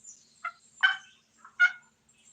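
A wild turkey gobbles from some distance, answering a hunter's calls: a few short, faint bursts followed by two louder rattling gobbles spaced under a second apart, with no talk.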